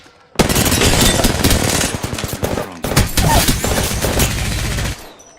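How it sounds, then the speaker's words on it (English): Rapid, loud gunfire from the G7 Scout double-tap trigger in Apex Legends, paired shots firing in quick succession with a short pause midway, close and dominant throughout. "There's a double tap trigger, which for the G7 Scout, as well as the EVA shotgun, basically fires 2 shots for every 1 pull of the trigger"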